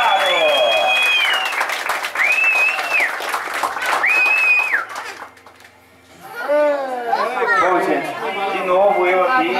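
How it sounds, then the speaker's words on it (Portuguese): Steady crowd applause for an honoree at a celebration fills the first half alongside cheerful chatter and whistle-like tones, fades briefly, then voices and lively talk take over. "Então, uma salva de palmas pro nosso homenageado!"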